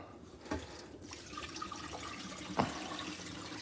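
Tap water running into a sink during bean cooking in a Kensington kitchen, a steady low wash with a couple of brief splashy bumps, fairly faint and alone without talk.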